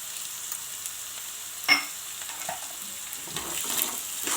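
Peas and onions fry in a pan for a restaurant-style Szechuan fried rice, giving a steady close sizzle broken by a sharp scrape of stirring and a few softer clinks and shuffles later.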